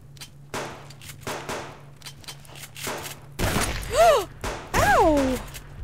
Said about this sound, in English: Ow, why am I getting shot?